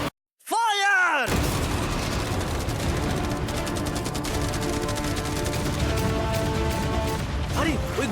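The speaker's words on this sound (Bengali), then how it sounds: "মেশিন গান ছাড়াও আমাদের কাছে 100টা ক্যানন বল আছে, আর একটা বিশাল মাইন যেটা আগের 15টার সমান।" Continuous heavy gunfire, cannon blasts and firework bursts from a game battle aimed at a yacht, a dense loud barrage that starts after a short whistling sweep and keeps rumbling throughout.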